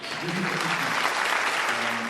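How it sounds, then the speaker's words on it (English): A short burst of steady applause from a small group, even and continuous for about two seconds, with a faint voice underneath. "Applause to Loser."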